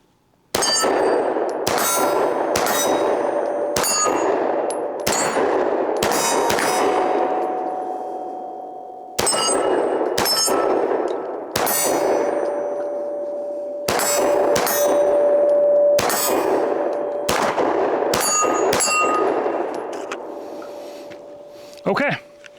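FN Reflex XL pistol firing Winchester white box ammunition at steel targets outdoors, two magazines of sharp, loud shots in quick strings, each followed by a bright metallic ring of struck steel, with brief pauses between strings.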